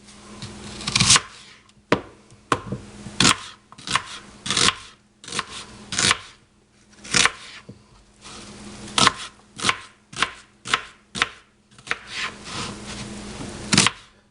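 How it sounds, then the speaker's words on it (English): A knife chops an onion on a cutting board in a kitchen, producing irregular close, crisp strokes that come in quick clusters and short pauses, with no talk. "So we're gonna cut us a onion."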